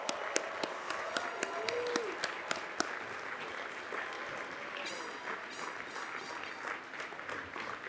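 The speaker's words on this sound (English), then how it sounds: "I ask that all students graduating today stand and be applauded" A large crowd at a university commencement ceremony applauds the graduating students with steady, sustained clapping that fills the space. A few sharp claps stand out near the start, and the sound carries evenly from a distance.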